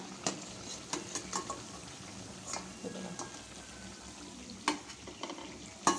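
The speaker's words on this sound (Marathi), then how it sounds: "तुम्ही तळून घ्या सर्व वडे" Poha vadas deep frying in hot oil, a soft continuous sizzle with scattered sharper pops and clinks of a utensil against the pan, fairly quiet and without talk.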